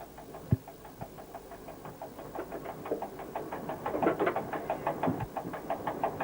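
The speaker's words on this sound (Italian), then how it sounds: "L'automotrice procede ora quindi con un motore solo." A railcar running on only one engine chugs with a steady, rhythmic knocking that grows slightly louder, with a sharp knock near the start.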